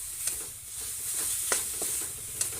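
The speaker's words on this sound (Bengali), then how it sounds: "নেড়ে চেড়ে নেব, নিয়ে এবারে নামিয়ে নেব।" A papaya naru mixture with saffron and arrowroot stirred in a pan, giving a continuous close sizzle and hiss with several sharp scraping strokes spaced across the clip, no speech.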